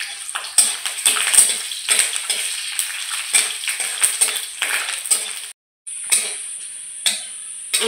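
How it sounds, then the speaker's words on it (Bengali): Garlic cloves and dried red chillies fry in a pan with an uneven crackling sizzle and stirring clatter, nearby and fairly loud, with a short silent break before the frying resumes. "আমরা রসুনগুলো একটু ভেজে নিয়েছি"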